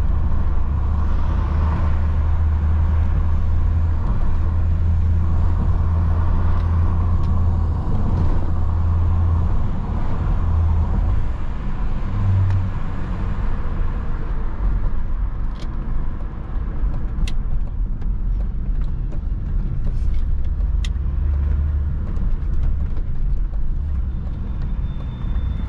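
A remapped BMW E34 525 TDS Touring cruising in fifth gear through city and highway traffic, a steady, loud low engine drone with road and wind noise and no talking.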